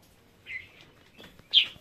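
Pet birds in a cage, a breeding pair of spotted doves, give two faint, short chirps about a second apart in an otherwise quiet room.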